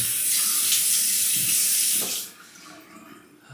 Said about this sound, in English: let me wet the face and get lathering here.